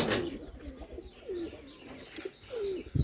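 Soft, low coos of Bombai pigeons repeat several times at an unhurried pace, each a rolling murmur, with faint chirps and light rustling around them.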